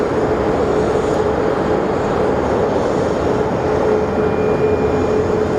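An Airbus A319neo airliner rolls past at Phoenix Sky Harbor airport, producing a loud, continuous engine roar with a steady hum and no variation in level throughout.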